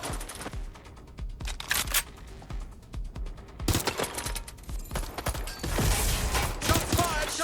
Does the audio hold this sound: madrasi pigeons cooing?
no